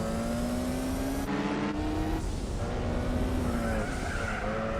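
Racing cars in Gran Turismo 4 whine with loud, steady engine tones that rise and fall through gear changes, with tire squeal and skidding noise layered over a constant roar.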